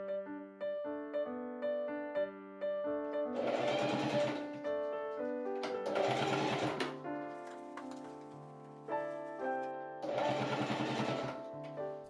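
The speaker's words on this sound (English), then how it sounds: "I top stitch a quarter inch along the top of the corset so the seams lie flat." A sewing machine top stitches a quarter inch along the top edge of a corset hoodie in three short bursts of rattling, all under steady background music.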